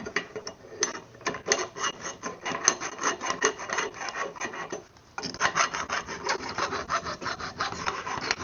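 Rust is filed off a cast metal part with a hand file, steady rhythmic rasping strokes repeating quickly and close, with one short pause partway through before the filing resumes.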